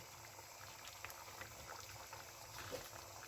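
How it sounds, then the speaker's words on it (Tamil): A pot of paruppu rasam, a lentil soup, boiling on the stove: a steady, faint bubbling and simmering hiss, continuous and close, with no voices. "இப்போ வாங்க ரசம் வந்து கொதிச்சு ரெடி ஆகிருக்கு"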